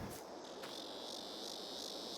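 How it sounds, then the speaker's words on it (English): Cicadas in a nighttime countryside scene from Farming Simulator 22 buzz in a continuous, shrill pulsing chorus with rhythmic swells, fairly quiet and alone with no talking. "Little cicadas."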